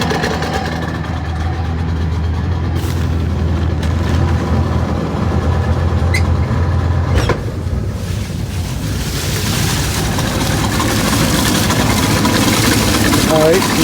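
A 1962 Johnson 75 hp outboard motor, fitted with bad reeds and hard to start, runs at a fast idle in gear, a steady loud drone outdoors on the water with wind buffeting the microphone and a voice speaking over it.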